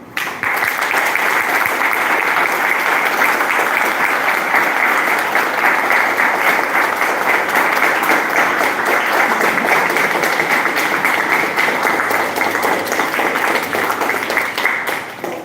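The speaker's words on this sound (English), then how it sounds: "So I kindly ask you for a warm applause for them." Warm, sustained applause from an audience at an award ceremony honouring work in nonlinear dynamics and statistical mechanics, dense even clapping holding steady for about fifteen seconds with no talking.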